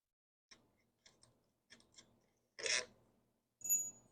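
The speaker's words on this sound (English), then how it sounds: "I'm going to unscrew this one." A bolt is unscrewed on the air filter housing of a Husqvarna HU700f lawn mower, heard as a few short, close ratcheting scrapes, followed by two louder rasping bursts.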